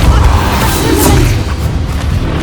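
A Depulso spell lands in the Hogwarts Legacy video game with a heavy, booming blast of wide noise that rolls on for a couple of seconds, loud and close.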